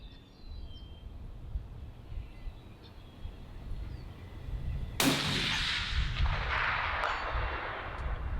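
A single loud gunshot is fired at a pop-up target outdoors after several seconds of quiet ambience with faint birds. The sharp crack is followed by a rolling echo that trails off slowly.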